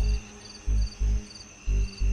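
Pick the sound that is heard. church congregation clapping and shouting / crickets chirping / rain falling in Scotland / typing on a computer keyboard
crickets chirping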